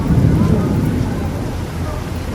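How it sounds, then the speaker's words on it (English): Thunder outside during a storm: a low, heavy rumble that rolls on steadily and fades slightly, fairly loud, with no talk over it. "it's thundering outside like randomly"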